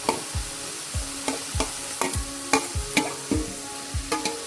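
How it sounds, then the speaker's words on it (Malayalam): Chopped tomato is stirred into sautéed onion for Kerala beef ularthu, with regular spoon scrapes and knocks against the pan, roughly two per second, over a soft sizzle and without talk. "ഈ വഴന്ന ഉള്ളിയിലേക്ക് നമുക്ക് തക്കാളിയും കൂടെ ചേർത്ത് കൊടുക്കാം."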